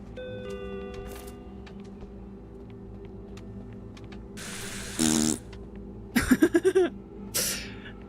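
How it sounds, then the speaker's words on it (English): A cartoonish fart sound effect in an indie horror video game, heard as a short buzzy burst and then a rapid stuttering series of pops, with a brief chime and other game noises around it. "The fart sound effect is surprisingly useful in indie horror games, isn't it?"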